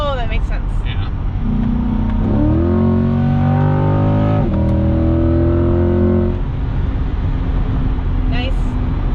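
A 2021 Chevrolet Corvette Z51 engine revs up through a rising, sweeping roar, holds, then drops back to a rumbling idle, loud and close inside the cabin.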